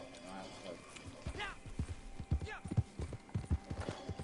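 Horse hooves clip-clopping at a run in the Red Dead video game, a quick uneven rhythm of thuds in the foreground while players talk loosely over the game audio.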